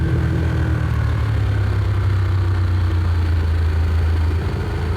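A tuned Ducati Streetfighter 1098 S motorcycle engine runs nearby with a steady, loud, low rumble, holding an even idle-like drone throughout.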